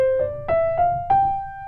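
On a keyboard, a brief rising run of single notes in Mixolydian mode, four or five distinct struck tones sustaining smoothly, played solo and near.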